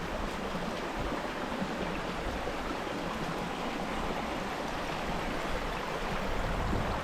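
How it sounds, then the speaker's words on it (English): A river in Jamaica running high after heavy rainfall, its water rushing in a steady, continuous broadband roar at moderate distance, with no voices over it. "this is river up. Oh, this is river. Yeah. Because good rainfall."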